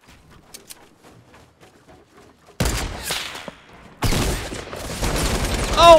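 Heavy video game gunfire erupts in loud, dense bursts during a Fortnite-style build fight, jumping in abruptly after a quieter stretch of faint clicks and then growing louder and more continuous.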